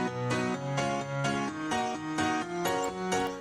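Two layered pianos in a dance drop, one pitched an octave up, playing rhythmic repeated chord stabs together in a steady pulse, full and bright, with no voices.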